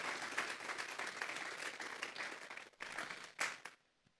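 A church congregation applauds at a sermon on mercy. The clapping is fairly quiet, swells and dips, breaks off briefly, then comes back in a short burst before fading to near silence.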